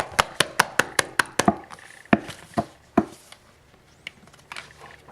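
A spoon banging on a pot, a rapid run of eight sharp metallic knocks followed by a few slower, scattered hits, close and fairly loud.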